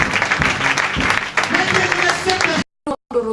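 A church congregation applauds in steady, dense clapping for praise, loud and close throughout, with voices mixed in before the sound cuts out abruptly near the end, followed by a brief fragment of voice.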